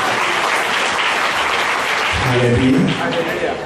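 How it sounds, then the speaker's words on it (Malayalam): Audience applause at a Christian church convention in Mallappally, a loud sustained crowd clapping with a voice speaking over it partway through. "കൈയടിച്ച് കർത്താവ് നന്ദി പറയും"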